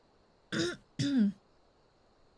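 Two short, harsh coughs or throat-clearing bursts from a person, close and fairly loud, about half a second apart, with quiet between them.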